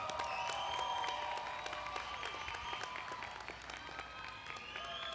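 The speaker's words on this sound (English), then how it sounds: "give them a round of applause" Commencement ceremony audience at the McWilliams School of Biomedical Informatics applauding families in the hall, with steady, dense clapping throughout, moderately loud and sustained, with faint background voices.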